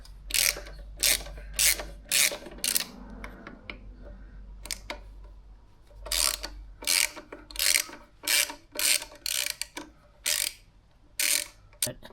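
Ratchet work removing the two lower bolts of a KTM 690 Enduro R brake pedal, heard as bursts of quick, close clicking strokes with short pauses between them, over a low background hum and without speech.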